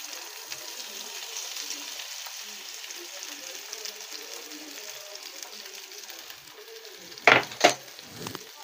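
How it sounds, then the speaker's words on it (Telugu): Chopped tomatoes frying in hot oil in a pan for a tomato curry, giving a steady, close hiss of sizzling throughout, with two brief louder stirring or utensil clatters near the end. "నేనైతే ఇక్కడ కట్ చేసిన టమోటా అయితే వేస్తున్నానండి"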